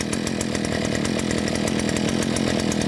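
A Kaaz Mitsubishi TLE48 47cc brush cutter engine runs steadily and loudly, a constant close buzzing drone without pause throughout.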